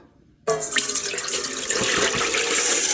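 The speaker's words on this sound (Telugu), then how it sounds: "సరిపడినన్ని నీళ్ళు పోయాలండి" Water pouring steadily into an Instant Pot inner pot holding washed rice, a loud close gushing stream that starts abruptly and runs on with no talk.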